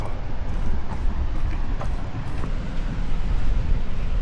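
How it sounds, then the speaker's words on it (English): Cold wind on the Oregon coast buffets the microphone in a continuous low, rumbling roar with gusty swells and no clear voices. "I can't believe how cold that wind is."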